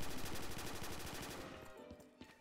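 Continuous fast automatic fire from a P90 in Black Ops 3 custom zombies, a loud steady rattling stream that stops abruptly, leaving a brief tail.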